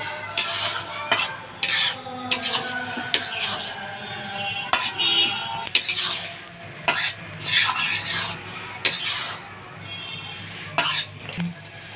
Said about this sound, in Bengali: ঢাকনা ছাড়াই এখন আমি এটা নাড়ে চেড়ে ভাজা ভাজা করে নেব